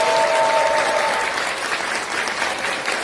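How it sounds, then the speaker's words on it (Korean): A crowd at a political discussion event in Seoul applauds loudly and steadily, with the dense clapping fading a little as it continues. "우리 박완희 대표님 큰 박수로 환영해 주십시오."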